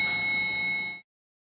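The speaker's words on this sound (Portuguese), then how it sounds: "Em algum lugar atrás de mim, um sino de elevador toca." An elevator bell rings a single sustained, bright chime with steady high tones that hold for about a second, then cut off abruptly into silence.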